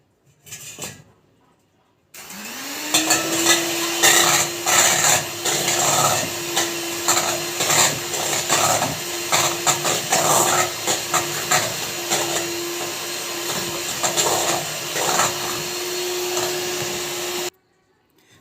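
An electric hand mixer whirs at high speed, beating three large eggs with two sachets of vanilla; it starts up after a short pause and then runs steadily and loudly with a sustained whine, with no talking.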